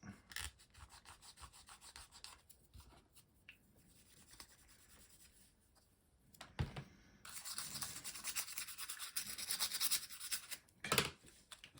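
Rubbing and scraping at glue residue on the circuit board of a Bang & Olufsen Beolink 7000 charger, heard as close, uneven scratchy strokes that grow harsher and louder toward the end, with no talk.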